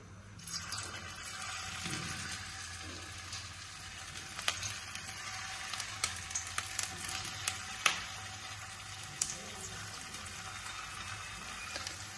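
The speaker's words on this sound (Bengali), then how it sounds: "ছানার বড়াটা ভেজে নিই" Chhana (cottage cheese) fritters fry in a pan of oil, giving a steady close sizzle with scattered pops and crackles, and no voices over it.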